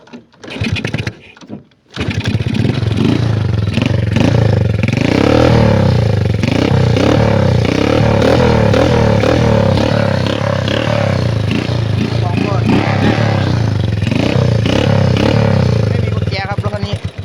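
An old Honda Wave 100 motorcycle set up as a budget trail bike on stock tires starts with a sputter, then runs loud and close with a rough, clattering idle and repeated revs.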